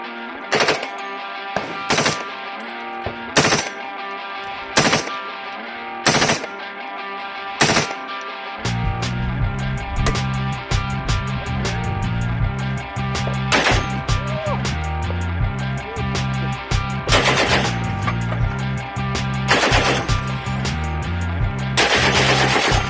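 Machine gun fire at a gun club range in Vegas: a few spaced single shots, then sustained rapid automatic bursts with heavy low rumble, loud and close, with no talking.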